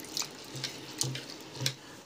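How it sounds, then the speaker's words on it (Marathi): Sago pearls are being washed for sabudana khichdi. Faint splashes and swishes of water sound in a few short bursts, quiet and close. "आता हे चांगलं आता पाण्यात ना चांगलं धुवून घेऊया।"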